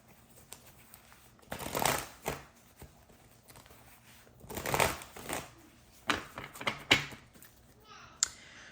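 Tarot cards being shuffled close up in several bursts of riffling and shuffling, separated by brief pauses and light handling noises.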